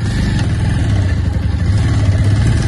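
A motorcycle engine labours up a steep hill road, giving a loud, steady, close-up drone with a heavy low rumble and no clear rise or fall in revs throughout.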